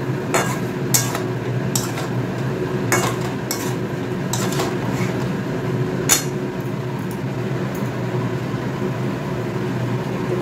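Food sautéed with spices in a pan, a steady frying hiss under repeated sharp clinks and scrapes of a metal spoon against the pan, close and fairly loud.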